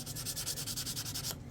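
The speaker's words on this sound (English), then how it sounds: "So I kind of hit it with that sandpaper." Sandpaper rubs the trailing edge of a three-blade RC boat propeller in quick, rhythmic strokes, close and fairly quiet, stopping just before the end.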